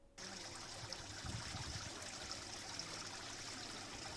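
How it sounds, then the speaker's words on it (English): A continuous, even rush of falling water, soft and steady throughout with no voices. "continue to focus on the sound of the rushing waterfall in your vision"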